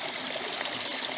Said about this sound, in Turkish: Şu an akan su bayağı bir soğuk, kar suyu.